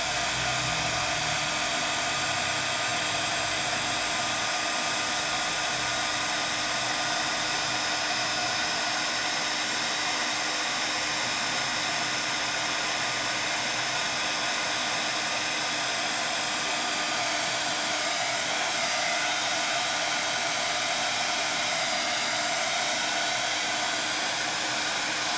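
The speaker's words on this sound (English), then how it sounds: "As you see it turn, move your heat tool." A crafting heat tool blows hot air in one constant, loud, even roar with no breaks, nearby and alone.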